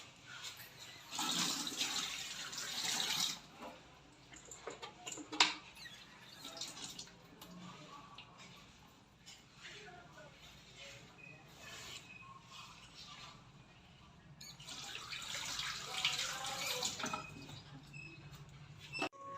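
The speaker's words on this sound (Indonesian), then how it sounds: "sebelum makan kita harus cuci tangan memakai sabun ya Bu" Hands washed with soap under running tap water during a nursing role-play before a meal, a steady gushing stream with splashing bursts near the start and end, close by.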